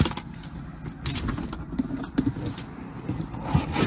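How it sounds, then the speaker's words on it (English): Keys jangling close by during a roadside traffic stop beside a car, a busy metallic rattle that continues throughout, with no talking. "You can carry your keys with you."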